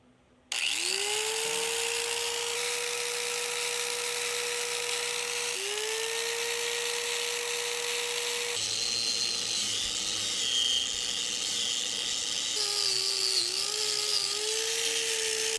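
Power grinder running on a classic truck while powered by a BLUETTI Elite 200 portable power station: a loud, close, continuous whine that spins up, dips and recovers as the disc bites into the metal, with no talking.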